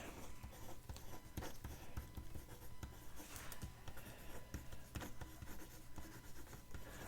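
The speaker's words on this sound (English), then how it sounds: "look, I'm writing the name instead of what I meant to write" Handwriting on a journal page, a faint close scratching of pen on paper with small irregular strokes and taps continuing steadily, no speech heard.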